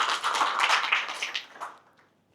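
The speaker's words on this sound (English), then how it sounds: "This is the time that you clap and you ask questions." A small audience breaks into brisk applause at the end of a talk on design thinking in product management, dense overlapping claps that fade out after about a second and a half.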